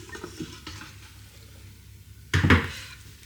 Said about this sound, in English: so now grab your air fryer basket out